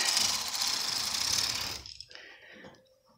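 A Brother 8-button knitting machine knits a slip and tuck pattern. A loud, rattling mechanical rush from the moving carriage lasts under two seconds, then fades into faint clatter.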